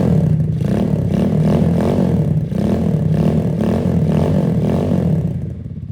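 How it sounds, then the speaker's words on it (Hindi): A 150cc Honda Grom replica mini bike engine fitted with an M4 exhaust revs hard and continuously, its loud note rising and falling in repeated surges before easing off at the end. "इस छोटे इंजन के साथ M4 का एग्जॉस्ट लगा हुआ है तो काफी अच्छी साउंड प्रोड्यूस कर रहे हैं।"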